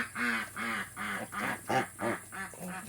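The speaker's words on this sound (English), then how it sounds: "The ducks are making fun of you." Homestead ducks quack nearby in a series of about eight loud, nasal calls in quick succession while feeding on watermelon rind, with no talk over them.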